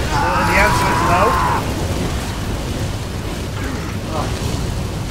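Rain and thunder in a storm in the Gears of War 2 video game, a loud steady rumbling wash with a brief tonal sweep early on, the storm filling the scene throughout.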